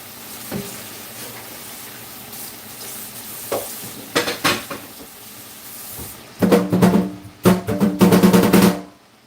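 Potatoes fry in a pan alongside a steak dinner, a low steady sizzle broken by bursts of scraping and clattering as a utensil stirs them against the pan, louder toward the end, with no talking.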